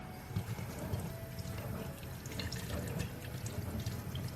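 Water runs and splashes continuously while a brush is rinsed clean, a soft, fairly faint rushing and gurgling with no talk.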